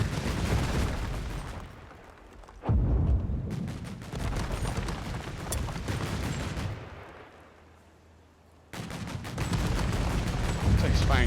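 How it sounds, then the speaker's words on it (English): A German gun fires shells in the Company of Heroes 3 strategy game, with heavy booming blasts and rumbling battle noise, including a sharp loud report near the start and renewed roaring fire toward the end. "Looks like it's firing 2 shells of that."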